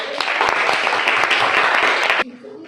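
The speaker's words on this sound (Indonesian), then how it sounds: "Beri aplaus." An audience in a classroom or workshop session applauds for about two seconds, a dense burst of close hand clapping that stops abruptly, followed by a brief quiet murmur.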